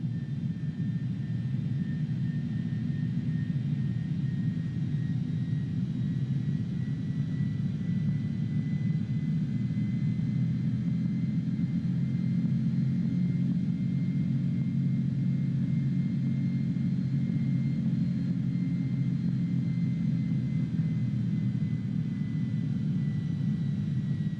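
An Airbus A310-300 comes in to land in Microsoft Flight Simulator 2020, its jet engines giving a steady, loud, low rumble with a thin whine above it that goes on unbroken the whole time, with no talking.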